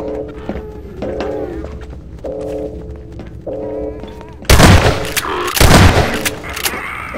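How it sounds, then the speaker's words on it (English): Two loud, broadband explosions boom out in a Half-Life 2: Episode Two single-player mod, bursting suddenly over quieter game ambience with tonal effects and fading with debris-like rumble afterward. "Explosion."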